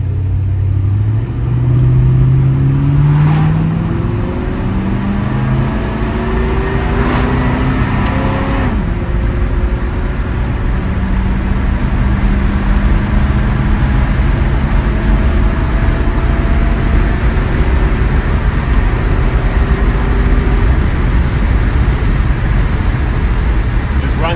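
An old Mopar car engine runs on the road, its mid-pitched drone rising and falling as it accelerates through several gear-like sweeps. The steady cabin noise continues throughout.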